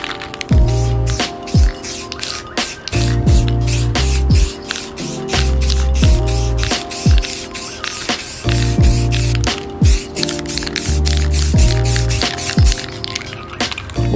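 Black base coat is spray painted onto a sanded skateboard deck in short, loud hissing bursts repeated every second or two, with music playing underneath.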